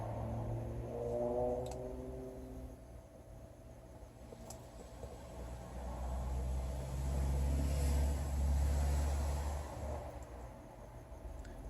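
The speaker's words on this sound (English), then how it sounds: "Sorry, noisy car going by." Car passing on a road outside, a low rumble that rises to a loud, close swell and then fades, with faint engine tones early on and no talking.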